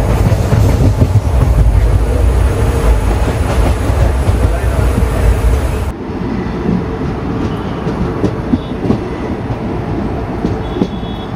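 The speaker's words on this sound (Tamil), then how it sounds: "ஏர் பிரேக் எங்கேயோ ரிலீஸ் ஆகிட்டுருக்கு." On the Ananthapuri SF Express, an air brake releases with a loud broad hiss that cuts off abruptly partway through, leaving the rumble and clatter of the moving train carriages.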